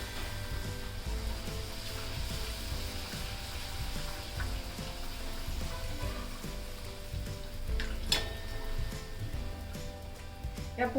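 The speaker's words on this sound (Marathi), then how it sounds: "याच पद्धतीने ना मी सर्व पुऱ्या तळून घेते" Puris fry in hot oil over medium to high heat, a soft steady sizzle with a few sharper crackles and a clatter near the end, moderately quiet and close.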